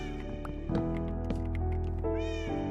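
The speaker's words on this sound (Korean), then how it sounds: "쟤가 계속 고양이 소리로 나 유인하고 있어" Cat meows used as a lure by the Siren Head monster in a forest horror video game: a few clear, close, drawn-out meows over a low droning game background, with no talking.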